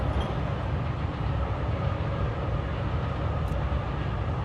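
Train in the video game Forgotton Anne, a continuous loud rumbling roar of rolling carriages, steady and close throughout with no talk.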